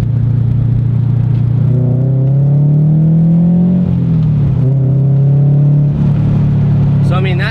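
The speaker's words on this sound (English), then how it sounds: "the car sounds loud as hell when I'm driving it around from the outside" A car's engine is heard from inside the cabin with a window down: a loud, steady, close rumbling drone whose pitch rises and falls gently, with a brief shift in tone partway through.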